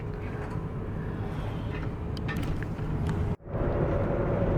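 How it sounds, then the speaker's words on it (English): A boat engine over-revving while under way during a summer holiday in Scotland, giving a loud, steady low rumble that fills the whole stretch, briefly cuts out near the end, then resumes at full strength, with no talk over it. "Please ignore the over revving of the engine."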